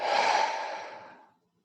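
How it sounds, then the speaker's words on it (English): A single deep, breathy exhale during a guided meditation, close and soft, starting full and slowly tapering away to silence over about a second and a half. "Let us close this practice with 3 deep breaths together."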